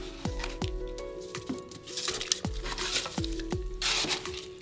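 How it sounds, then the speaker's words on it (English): Liquid sloshes and ice knocks inside a dewar as ice is added on top of water, with a series of sharp clunks at a steady rhythm over a watery, splashing wash. "You can hear it sloshing around in there."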